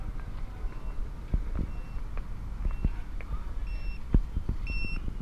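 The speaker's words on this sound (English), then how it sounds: "your wallet is actually beeping" A smart wallet's alarm gives a few faint, high-pitched electronic beeps near the end amid low background rumble and scattered small thumps.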